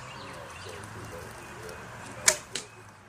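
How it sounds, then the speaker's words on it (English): A longbow arrow whooshes downrange and strikes a paper target with a sharp snap, one loud hit followed by a smaller second impact, heard outdoors at a folk school longbow class in Brasstown, North Carolina. "When you get that whoosh sound and then a snap noise"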